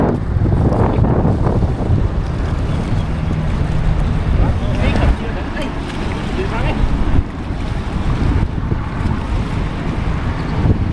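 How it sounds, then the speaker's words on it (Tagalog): Strong wind buffets the microphone in heavy gusts over water and a running boat engine, with people talking faintly underneath. "Medyo malakas ang hangin."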